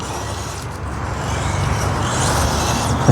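Brushless motor of an FCX24 K5 Blazer RC crawler under light throttle, a quiet steady whir with low rumbling texture that rises slightly in loudness toward the end, no talking.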